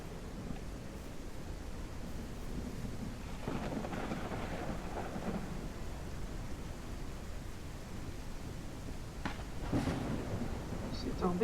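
Thunderstorm in the video game Ranch Simulator: steady heavy rain hiss throughout, with rolling thunder swelling in the middle and again near the end, and a voice speaking faintly beneath.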